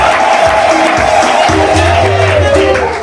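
A wedding congregation in a church in Mayoni claps and cheers loudly and continuously, with whoops and raised voices layered over a sustained background tone.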